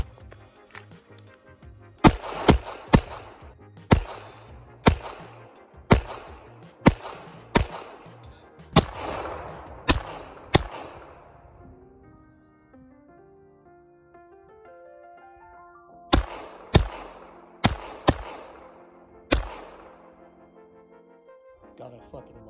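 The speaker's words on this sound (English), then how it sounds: "So let's shoot the Makarov" Makarov pistol fired outdoors in two strings of sharp, loud shots, about a dozen in the first burst and five in the second, each ringing out with a long echo, with a pause between strings.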